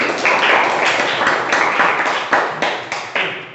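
A classroom of students claps for a group after its presentation, a dense burst of loud, close applause with a few sharper claps standing out, continuing for several seconds without talk.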